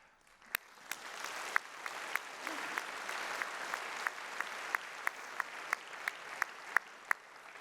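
Sustained applause from an audience at a university anniversary ceremony honoring a Spinoza Prize recipient, a steady wash of hand claps with sharper individual claps standing out, moderately distant throughout.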